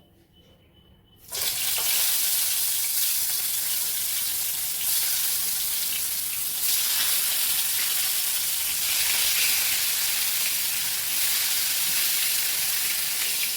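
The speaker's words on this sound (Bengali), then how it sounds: "বেগুন বাহার বানাতে আগে আমাকে বেগুনগুলো একটু ভেজে নিতে হবে।" Eggplant slices dropped into hot oil burst into a loud, steady sizzle after a quiet start, the dense hiss of frying continuing close and unbroken with small swells in intensity.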